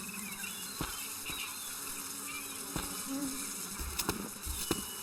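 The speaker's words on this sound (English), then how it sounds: "The wasps are guarding a poorly rinsed bowl of cereal." Wasps buzz in the Jack Keane point-and-click adventure game, a faint steady insect drone with wavering whine, punctuated by a few soft clicks and taps.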